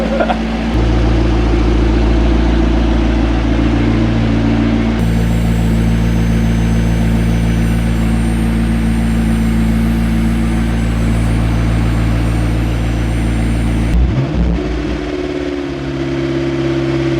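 A McLaren sports car engine idles steadily and loudly throughout, a smooth low drone with a brief dip near the end, with no talking.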